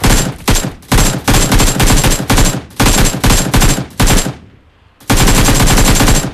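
Rapid gunfire in a battle-royale video game, loud bursts of repeated shots in several volleys with a short pause before firing resumes.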